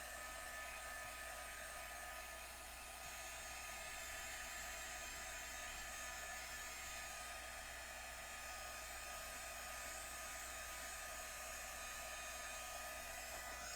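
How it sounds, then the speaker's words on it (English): A heat tool blows steadily while drying ink on a card during a paper-craft inlay project, a continuous loud airy whoosh with a low hum, unbroken for the whole stretch and with no talking. "Let's give them a little heat to dry them."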